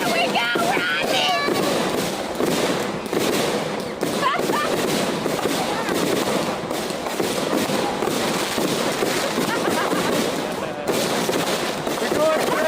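Fireworks going off wild and nonstop, a dense, loud barrage of crackling bursts and popping blasts that keeps up without a break, with excited voices faintly mixed in.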